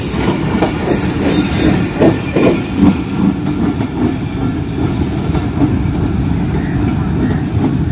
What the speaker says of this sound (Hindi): वो सामने आप 28 डाउन शालीमार एक्सप्रेस देख सकते हैं, प्लेटफॉर्म नंबर पर मौजूद है